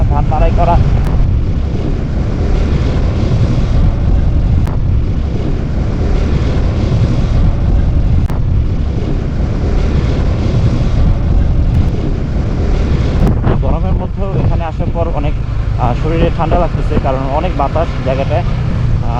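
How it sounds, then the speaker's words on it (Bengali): Strong wind buffets the microphone in a constant low roar on a raised spot in an open wetland haor, with voices briefly audible toward the end. "এই উঁচু জায়গাটাতে বাতাস বেশি লাগতেছে গায়ে"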